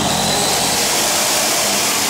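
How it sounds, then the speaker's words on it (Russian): A broken, 15-year-old Bosch vacuum cleaner runs with a loud, steady motor whine and rushing airflow, continuous and close, with no talking. "у нас сломался пылесос. Вот, смотрите, что у нас с ним происходит."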